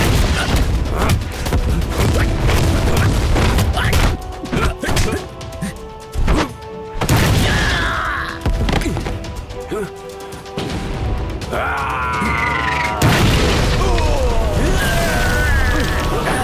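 Gunfire and explosive blasts from a dubbed movie battle scene, dense impacts and booms running almost continuously, loud and close, with shouted voices over the top.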